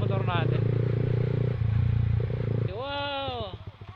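Yamaha XSR 155 motorcycle riding on a North Luzon road trip near a dam, a steady loud engine drone with wind rush that shifts pitch midway as the engine revs rise and fall, heard up close.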